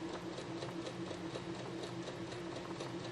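Singer sewing machine stitching a quilt in a steady, even mechanical whir with a rhythmic pulse, continuous and fairly faint throughout.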